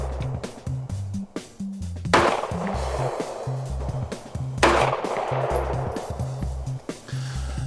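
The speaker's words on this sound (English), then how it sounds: "As you can see, the gun is staying right on target." A Colt 1911 competition pistol with dual recoil springs fires on an outdoor range, giving two sharp, loud reports about two and a half seconds apart over a steady low rumble.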